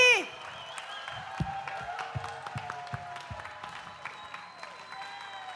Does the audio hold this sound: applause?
yes